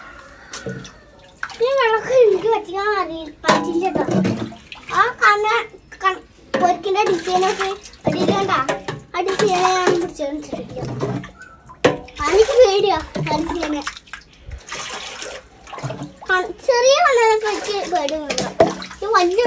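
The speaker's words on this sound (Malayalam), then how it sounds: "ആ വെള്ളം ഒഴിക്ക്" Water poured into a container holding fish, splashing and gurgling in uneven bursts while an adult and someone talk over it almost continuously.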